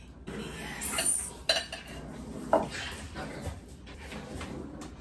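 A spoon digs into crispy baked mac and cheese in a dish, giving a couple of short scraping, crunching scoops against the pan, fairly close and otherwise quiet.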